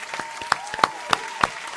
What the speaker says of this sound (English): I'm going to have to clap it up for my man